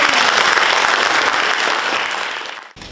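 Dense, loud applause from an audience at a stage show fills the clip, holding steady before thinning out and cutting off near the end.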